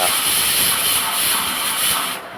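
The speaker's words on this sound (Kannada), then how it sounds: "ಒಂದು ಸಾಧಾರಣ 5ರಿಂದ 6 ಸೀಟಿಯನ್ನು ಬರೆಸಬೇಕು ಕುಕ್ಕರ್ನಲ್ಲಿ" A pressure cooker cooking toor dal lets out a loud, steady hiss of escaping steam that rushes continuously before cutting off abruptly near the end.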